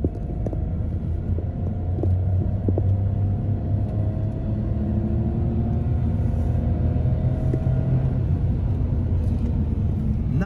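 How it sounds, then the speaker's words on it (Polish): A 2018 Dacia Sandero Stepway with a 90 hp petrol engine accelerates in third gear, its steady low engine rumble rising in pitch as it pulls, heard from inside the car. "ja troszeczkę wcisnę pedał przyspieszenia"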